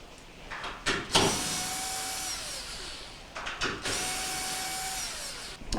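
A power drill unscrews 1/4 inch screws from an Amana washer console, whirring close and loud in two sustained runs, each starting with a rising whine and ending in a falling pitch, separated by short clicks and pauses.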